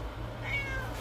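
A single short meow from a cat, soft and rising, heard over low background noise.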